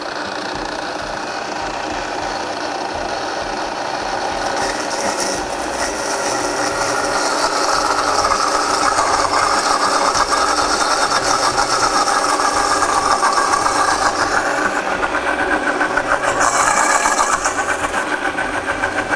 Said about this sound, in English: Let that puree for just a little bit, get it nice and mixed up